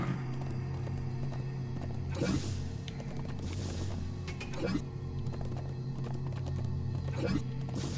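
Video-game horse hooves clip-clop in an uneven rhythm of soft thuds, with occasional neighing, over a faint steady background hum.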